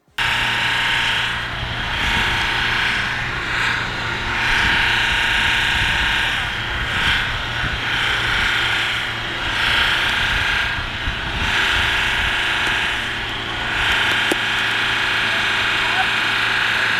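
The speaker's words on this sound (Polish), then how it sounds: "większość starych francuskich diesli ma zdolność do dość szybkiego rozbiegania się" An old French diesel engine runs away, holding a loud, steady, high-revving roar with a droning hum and rattling mechanical noise throughout, up close and with no let-up.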